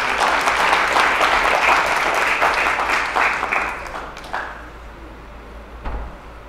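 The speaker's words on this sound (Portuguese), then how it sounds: "uma salva de palmas a cada um de vocês" Loud, steady applause from a seminar audience fills the room for about four seconds, then thins out and fades to scattered claps and quiet.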